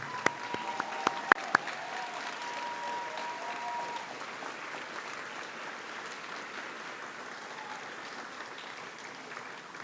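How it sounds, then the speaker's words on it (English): Applause from an audience at an annual fashion show, a broad steady wash of clapping held for about ten seconds, opened by a few sharp louder claps near the start, with no talk over it. "Let's give them a big round of applause."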